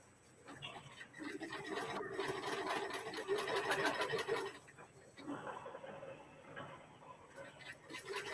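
A home sewing machine stitching a small seam, a fast steady mechanical whir and rattle that runs for several seconds, pauses briefly, then resumes more quietly, close-up with some faint background noise.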